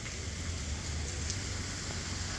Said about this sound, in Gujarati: પવન નથી પરંતુ વરસાદ ચાલુ છે.